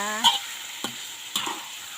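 Chicken stir-fried with holy basil for pad kaprao, heard as a low sizzle with three distinct spatula strikes against the pan, close and without talk.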